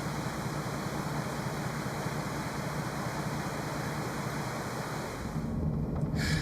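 Broad, steady roar of fast, swollen river water in flood near a waterfall area in San Luis Potosi, Mexico, running loud and continuous with no voices over it.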